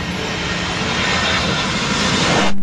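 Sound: toy airplane flying sound

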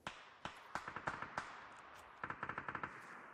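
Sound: gunshots in a video game

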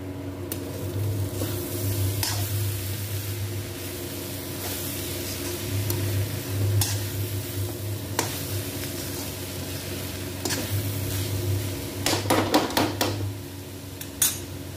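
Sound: stirring methi aloo sabzi with a ladle in pan

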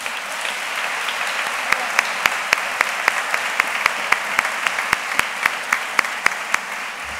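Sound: applause

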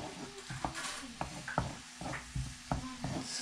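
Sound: garlic frying in butter in a pan

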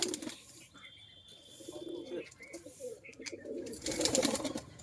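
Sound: pigeons cooing

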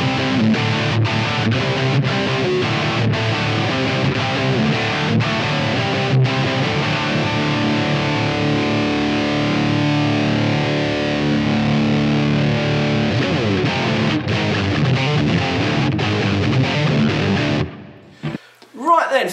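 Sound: electric guitar with gain and reverb

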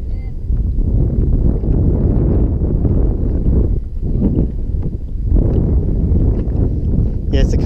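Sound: wind blowing while fishing on a boat

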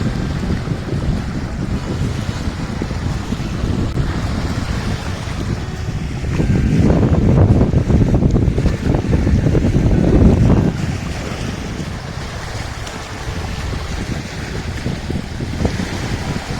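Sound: waves on river water heard from a rowing boat

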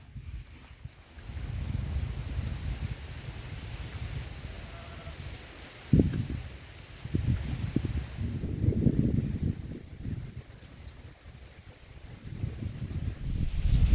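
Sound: strong wind blowing

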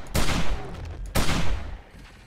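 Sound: shotgun firing incendiary rounds in a video game

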